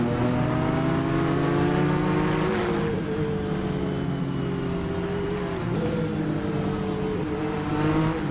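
Nissan Skyline BNR34 engine in a racing video game, a steady loud drone whose pitch drops as it downshifts, then holds and climbs again through a corner, with no voices.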